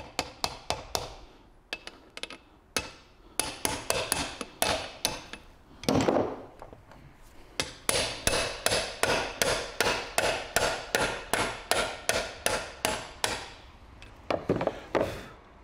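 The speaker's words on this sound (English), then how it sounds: "Just the last little bit with the hammer." A hammer drives a wheel bearing into place on a Toyota Hilux rear hub, with a long series of sharp, close metallic strikes. The blows come in a steady rhythm with brief pauses between bursts.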